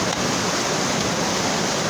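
Floodwater from the 2024 flood in Thagas rushes past in a loud, steady roar of churning water, continuous and unbroken, with no voices.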